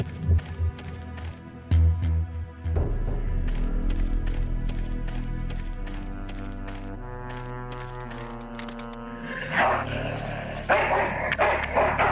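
A dog barks in the Full Throttle Remastered video game, short repeated barks layered over loud game music with tonal and rhythmic background, near and fairly prominent.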